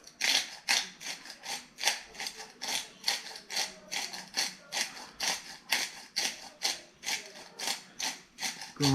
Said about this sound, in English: Black peppercorns.